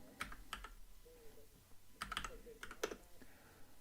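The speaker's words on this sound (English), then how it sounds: "helps if I type on the right keyboard" Fingers tap on a computer keyboard in short clustered bursts of quick clicks with brief pauses between them, close and fairly quiet, with no talking.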